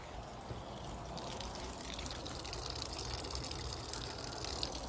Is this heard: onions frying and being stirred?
no